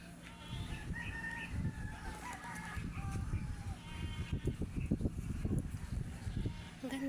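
Goats bleat among farm animals on grassy ground at Eco Park in Wawa, with several uneven calls scattered across a continuous outdoor hum and fairly faint, close-range background activity.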